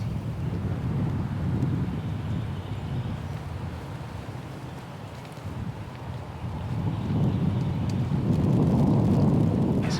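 Cool spring wind buffets the microphone outdoors in Pennsylvania woods, a low, continuous rumbling roar that dips slightly midway and then gusts stronger toward the end.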